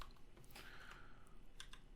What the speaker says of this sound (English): you could actually type in a message